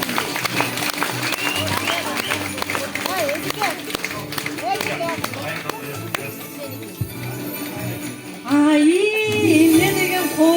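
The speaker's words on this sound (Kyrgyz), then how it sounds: "Шаңдуу бир кол чабуулар болсун" Festive applause and crowd noise from an audience at a New Year lottery game event, a dense, steady wash of clapping with a voice speaking over it near the end.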